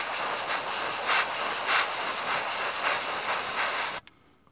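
AK 0.3 airbrush spraying with a steady airy hiss of compressed air, pulsing slightly louder in a few bursts, close and fairly loud, then cutting off abruptly near the end.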